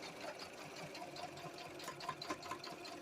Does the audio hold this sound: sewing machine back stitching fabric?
yes